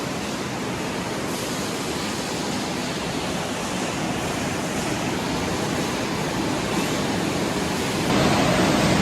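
Loud, steady industrial roar of wire mesh factory machinery in Khon Kaen, Thailand, running continuously, a dense broadband drone with a slight rise in intensity near the end.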